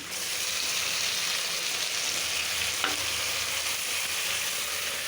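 Dried fish sautés with ginger-garlic paste, coriander powder and salt in a hot pan. A loud, steady oil sizzle fills the whole stretch, broken once by a short scrape of stirring.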